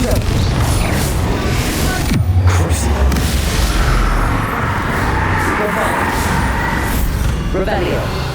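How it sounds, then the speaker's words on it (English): The Confringo explosion spell from the video game Hogwarts Legacy goes off as a low boom and rumble amid mechanical game noise, with a voice talking over it. "Confringo."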